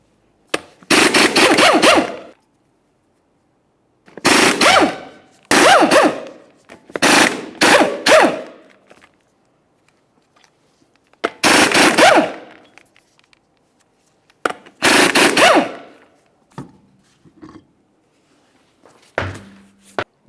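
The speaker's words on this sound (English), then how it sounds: "remove all 6 of your 19mm lug nuts and then the wheel" An impact wrench spins off 19mm lug nuts from a Chevrolet Trailblazer wheel, delivering six loud, separate rattling bursts with short pauses between them and a few faint clunks at the end.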